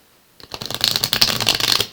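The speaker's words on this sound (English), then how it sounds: "Just got a couple shuffles here left to go." Tarot cards are shuffled in a rapid run of crisp, riffling flutters, close and loud, beginning after a brief silence and continuing steadily to the end.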